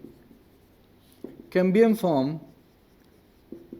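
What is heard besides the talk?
writing notes during a lesson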